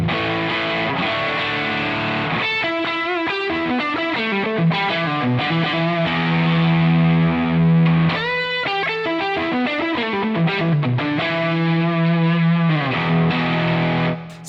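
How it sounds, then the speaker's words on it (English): Electric guitar runs through an Ibanez Tube Screamer stacked into a boost pedal, giving a loud, thick distorted tone as sustained chords alternate with quick melodic runs over about fourteen seconds. "So now I've got the Ibanez Tube Screamer going into the boost pedal."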